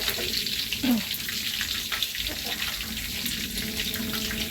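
Mushrooms fry in a pan with a steady, close sizzle and crackle that runs the whole time, with a few faint clinks. No talk.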